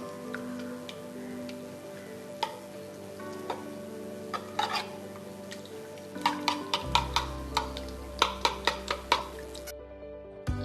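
Ground paste being stirred into a pan for a chicken dish, with soft scraping and repeated ticking taps of a spoon against the pan over a low background hum, growing busier toward the end.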